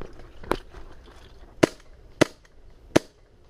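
Four sharp gunshots crack at a shooting range, spaced irregularly about a second apart, loud and close with a faint background between shots and no talk.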